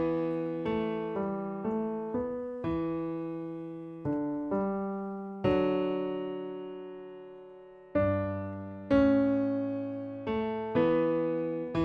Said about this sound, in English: I'm just going to play it on a keyboard here real fast.